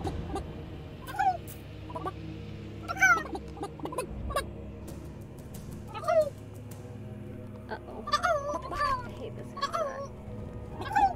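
Chickens cluck and squawk in repeated short calls across the whole stretch in the VR game Ragnarock, sounding fairly close over a low background hum.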